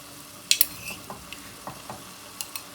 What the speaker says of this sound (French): maintenant je vais pouvoir ajouter mon saumon frais que j'ai préalablement découpé un peu en lamelles